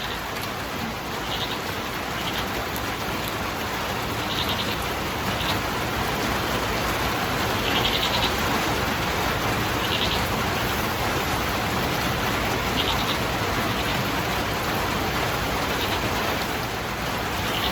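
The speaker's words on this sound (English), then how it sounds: "it's really raining out" Steady heavy rain pours down outdoors, a dense even hiss of drops with no pauses and no voices.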